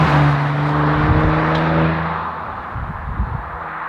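Loud, close Audi RS4 engine and exhaust with a strong steady drone from the quattro performance car under acceleration, easing slightly toward the end.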